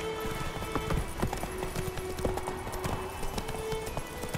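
Roach, Geralt's horse in The Witcher 3, gallops with a rapid, steady clip-clop of hooves, moderately close and continuous, over a soft ambient game background.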